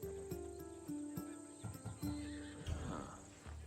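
A Thessalonian horse in Assassin's Creed Odyssey neighs and whinnies, with hoof clip-clops and snorts close by, under a steady ambient game tone.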